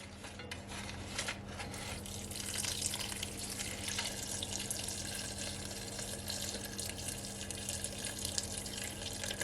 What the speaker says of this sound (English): So I'm just gonna add some water.